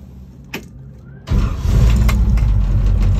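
A 1958 Chevrolet Impala engine cranks briefly and then fires, settling into a loud, steady, rumbling idle close by, with no one talking.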